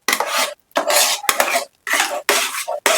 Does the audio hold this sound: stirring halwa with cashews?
yes